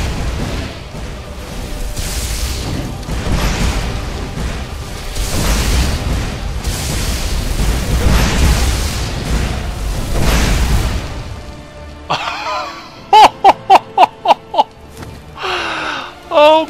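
Explosive bombardment in Skyrim: a long run of rumbling booms and blasts rolls on for about eleven seconds, loud and dense, then gives way to a quick series of sharp, punchy hits and a final burst, with a voice heard briefly.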